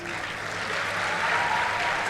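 Sustained, even applause from a crowd clapping for the girls at a thanksgiving event at Mugoiri Girls High School, dense and steady throughout.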